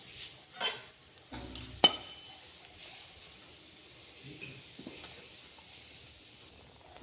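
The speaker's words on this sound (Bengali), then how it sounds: "এবার তেল দিয়ে দেবো অল্প, কালো জিরে দিয়ে দেবো, দিয়ে দেবো দুটো শুকনো লঙ্কা" Nigella seeds and two dried red chillies hit a small amount of hot oil in a heated kadai for Bengali steamed fish, giving a soft, steady sizzle with a few sharp crackles and stirring scrapes, fairly faint throughout.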